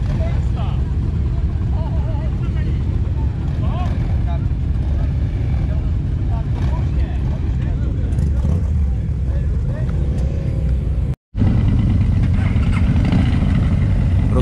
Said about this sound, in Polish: dźwięk silników, wszyscy gotowi do wyjazdu